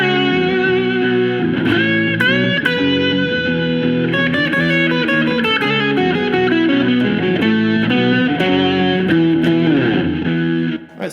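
A distorted electric guitar plays a busy, sustained solo with bent notes and rapid runs, loud and saturated until it cuts off abruptly.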